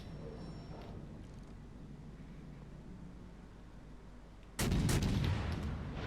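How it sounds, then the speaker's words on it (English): Naval guns from a warship in World of Warships Legends fire a single loud, booming volley at the battleship Bismarck, bursting out suddenly over a steady low engine and sea rumble. "I'm going to get my guns, I'm going to fire on Bismarck"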